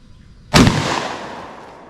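A single home defense shotgun blast at an outdoor range, one sharp loud report that decays in a long rolling echo over more than a second.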